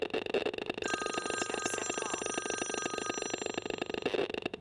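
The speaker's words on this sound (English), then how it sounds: "And Jeff, would you try to call my phone and see what happens?" A mobile phone rings with an incoming call, its steady electronic ringtone starting about a second in and continuing over a loud, fast-pulsing buzz that runs throughout.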